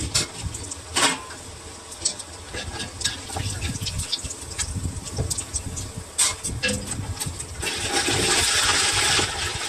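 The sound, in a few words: chicken frying in oil for chicken pickle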